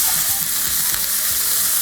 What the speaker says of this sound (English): Oh, I love that sizzle.